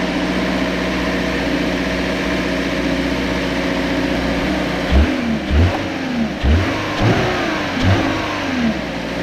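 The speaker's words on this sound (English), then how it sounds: "Now what I'm gonna do is start up the car," A 2018 Subaru Crosstrek, fresh from a 60,000-mile service, cranks and starts partway through, then gives several sharp revving blips over a steady low engine hum, close to the car.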